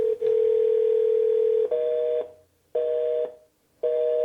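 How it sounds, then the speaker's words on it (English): A clear, steady telephone tone rings out alone, one long stretch followed by shorter repeated bursts separated by silent gaps. "That dial tone means that they did not get into the queue."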